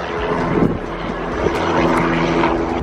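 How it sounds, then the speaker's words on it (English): A helicopter flying, a steady loud engine drone with a broad rumbling roar that holds evenly throughout, with no talking. "This helicopter."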